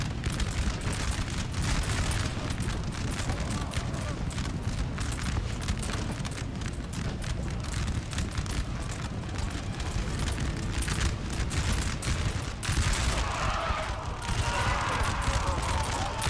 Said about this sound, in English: France is the first to fire.